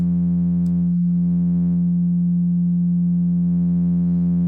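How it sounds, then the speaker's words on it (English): A steady, pure synthesizer sine tone holds at one pitch throughout, loud and unbroken, with a faint click near the start. "So you heard how it sounded with just a single sine wave"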